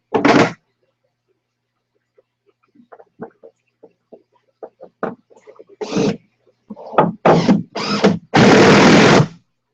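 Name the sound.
power drill driving screws into wood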